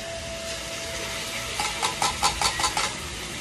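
Sardines drop into a pan of tomatoes that are already frying. A steady hiss builds into a run of rhythmic sizzling, scraping bursts, close and moderately loud, with no talking.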